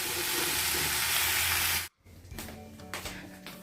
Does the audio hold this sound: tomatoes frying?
yes